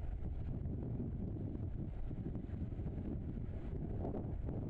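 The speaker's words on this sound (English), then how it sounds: "So this is the kind of wind we're dealing with here." Strong hurricane wind buffets the microphone outdoors in Key West, a steady, loud roar of rushing air and low rumble lasting throughout, with no speech.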